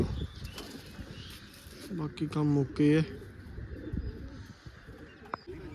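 Pigeons coo in a few low, throaty bursts amid brief wing flutters, with someone talking nearby and some outdoor background noise.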